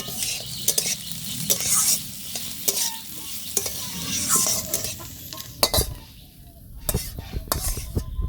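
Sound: prawns added to frying bitter gourd

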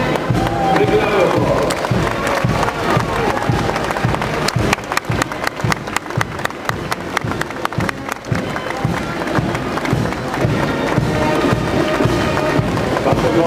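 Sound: crowd applause for the volunteers at the parade

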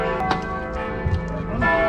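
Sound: church bells ringing

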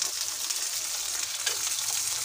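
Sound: oil sizzling on a hot tawa griddle

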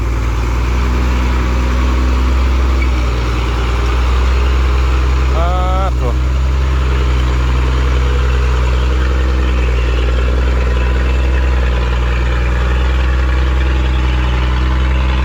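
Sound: truck engine idling

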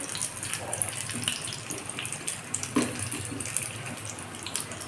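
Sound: singara pastries deep-frying in oil

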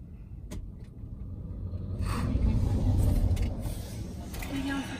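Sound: camper vehicle passing on road

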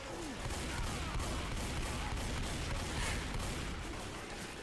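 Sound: gun spam in Left 4 Dead 2 video game

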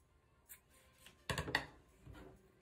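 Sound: scissors cutting yarn

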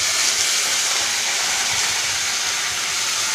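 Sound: mustard seeds spluttering in hot oil

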